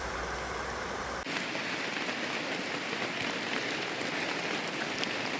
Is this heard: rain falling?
yes